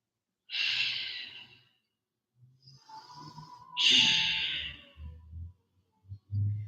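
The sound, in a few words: deep breathing during yoga flow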